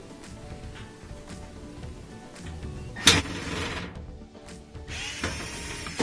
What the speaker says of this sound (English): I'll use my Phillips head screwdriver to remove the two screws that hold on the lid switch